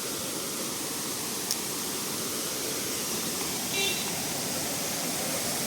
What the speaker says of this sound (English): this is the main waterfall of Amboli